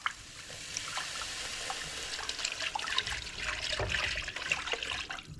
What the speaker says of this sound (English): We're going to add the broth.